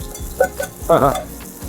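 Garlic slices fry in oil in a clay pot, a soft sizzle broken by quick stirring knocks and a short squeaky scrape.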